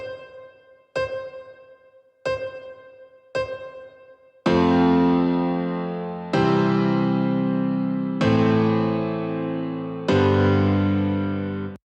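Piano-like keyboard chords in a progression with an added tonic pedal C: four short struck chords in a steady rhythm, then four louder, sustained chords that ring fully, close and clear with no talking.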